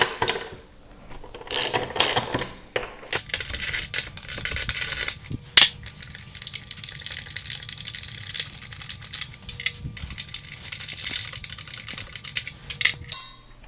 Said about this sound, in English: Going to remove these 4 bolts.